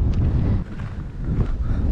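Steady, blustery wind at the Narcisse snake pits in Manitoba buffets the microphone in a low, rumbling roar that dips briefly before surging back, with no voices.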